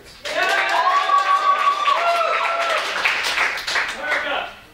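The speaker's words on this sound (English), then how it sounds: "Applaud now if you'd like to see the origin story of Man Scout." Crowd at an improv comedy show clapping to vote for a scene, a burst of dense applause that starts abruptly, holds steady with cheering voices mixed in, then tapers off at the end.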